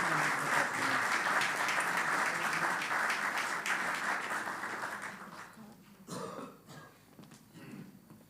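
Dense audience applause fills a hall at a conference's formal opening ceremony, loud and steady for several seconds before thinning out into scattered claps, coughs and throat clearing.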